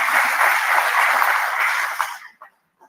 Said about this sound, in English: Big round of applause for Lord Thomas.